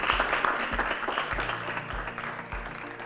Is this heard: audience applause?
yes